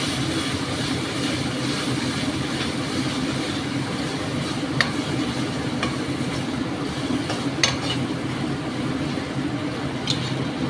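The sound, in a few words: mutton being stir-fried (kosha) in a pan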